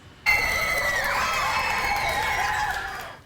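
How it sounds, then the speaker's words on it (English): Elementary school children cheer for visiting graduating seniors, a sudden burst of high-pitched shouting and whooping that swells at once and holds steady for a few seconds before fading. "Elementary school students couldn't help but cheer on their fellow seniors."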